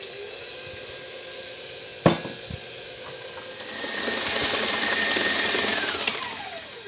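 Electric stand mixer with a paddle starting on low and ramping up while beating gluten-free cake batter, a close, steady whirring hiss that grows louder and brighter, with a clunk near the start.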